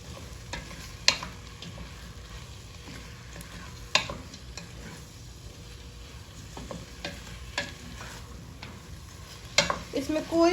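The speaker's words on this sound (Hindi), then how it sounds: "अब इन सब चीज़ों को हम अच्छे से मिक्स कर लेंगे इसमें। और इसे भून लेंगे।" Spices for a Turkish lentil soup frying in a pan while being stirred, a continuous low sizzle broken by sharp spoon knocks and scrapes against the pot at irregular intervals, a faint voice now and then.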